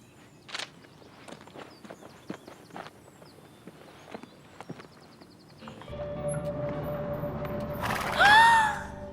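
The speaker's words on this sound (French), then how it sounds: "Des chevaux!" Horses on a ranch walking with steady clip-clopping hooves, distinct close hoof strikes in an uneven rhythm, followed by a rising background rumble and a short high whinny-like tone near the end.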